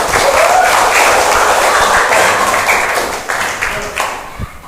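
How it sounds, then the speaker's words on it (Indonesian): Applause for a student group after their presentation in a classroom, a dense burst of clapping that stays steady and loud, then thins out and fades over the last second. "Beri tepuk tangan untuk kelompok 1."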